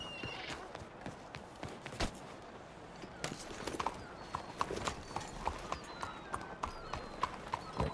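A horse's hooves clip-clop in Red Dead Redemption 2, a steady rhythmic trot of sharp hoof strikes that grows more regular and prominent over an ambient outdoor game background, with faint bits of speech.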